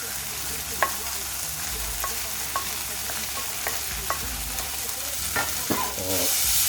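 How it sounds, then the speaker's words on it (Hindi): Fried corn kernels tossed in sauce in a hot pan, restaurant-style crispy corn, a steady close sizzle with repeated spatula stirs and scrapes, louder hiss at the very end. "और बस इसको थोड़ा सा हिलाते रहना हमें इस तरह से, ताकि सॉस की कोटिंग इस पर अच्छे से लग जाए"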